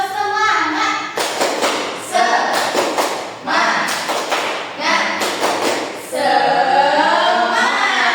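A third-grade class does a spirit-clapping routine, with bursts of rhythmic group claps and thumps mixed with children's chanting voices in a classroom.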